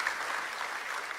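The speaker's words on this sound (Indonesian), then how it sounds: "Yuk, beri tepuk tangan." Steady applause from a church congregation fills the space, a dense even wash of clapping with no talk over it.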